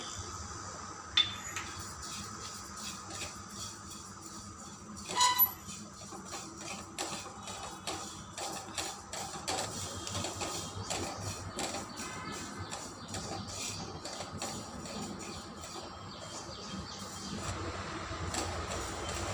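Cumin seeds dry-roasting in a pan, a long run of fine dry rattling and scraping with occasional metallic knocks, steady and moderately close without speech.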